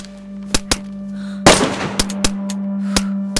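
Gunfire in DayZ: a string of sharp, loud shots at uneven intervals, with one heavier blast in the middle trailing into a brief rumble, over a steady low hum.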